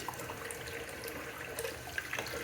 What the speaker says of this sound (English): I'm gonna rinse out the water of the sink